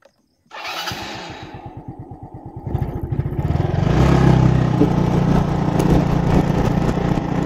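A motorcycle engine starts with a sputter, idles in a quick putter, then revs up and settles into a loud, steady running drone close by as the ride begins.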